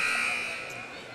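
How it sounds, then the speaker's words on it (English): A sustained electronic buzzer tone at a high school volleyball game, loud at first and fading slightly, with faint crowd noise beneath. "As the buzzer sounds,"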